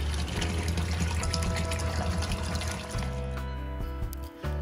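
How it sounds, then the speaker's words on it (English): CIP pumps circulating water through a sink in a small-scale batch pasteurization setup, a steady pumping hum under a constant rush and splash of flowing water that shifts near the end. "Use the CIP pumps to regulate the water flow rate."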